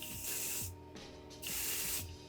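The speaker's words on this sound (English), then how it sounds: "I'm just gonna spritz it with the heat protectant spray" A spray bottle of heat protectant hisses onto hair in several short bursts, close and steady, with faint clicks and handling noise between the spritzes.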